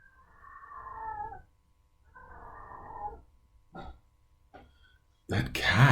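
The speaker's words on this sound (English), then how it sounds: "I was trying to see what that cat is crying about like that" Two long, wailing cries from a cat, moderately loud and drawn out, followed by short sounds and a louder burst of noise.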